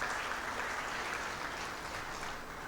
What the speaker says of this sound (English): prepared by Dr. Saima Askari, she deserves a warm applause.